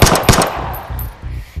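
Rapid bursts of gunfire from a recoilless gun in the VR game SportMode VR, several sharp close shots in quick succession, loud and alone without talk.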